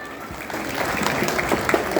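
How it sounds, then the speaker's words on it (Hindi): Crowd applause for a young performer at an Indian school Independence Day celebration, a dense patter of clapping that builds and continues steadily with faint voices mixed in. "तो इस नौजवान के लिए तालियां रुकनी नहीं चाहिए"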